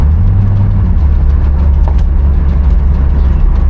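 A 1981 Chevrolet Corvette on the move, its engine droning loud and steady under continuous road and tyre noise at around 35 to 40 mph, close to the microphone with no pauses.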